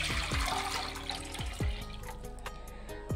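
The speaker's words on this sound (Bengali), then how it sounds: "দিয়ে দেব জল।" Water pours from a tap into a bowl in a home kitchen, a steady splashing fill with a few bright clinks of the bowl, close and alone without talk.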